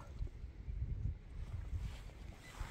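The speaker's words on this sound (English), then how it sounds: "It's a bit breezy again today." Wind buffets a microphone outdoors on a breezy day during a metal detecting hunt in the UK. A low rumbling gust noise runs steadily throughout at a fairly faint level.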